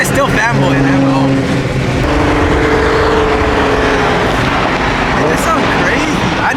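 A Nissan 350Z drives close by, its engine a steady loud drone with rising tones in the opening seconds, while people talk over it.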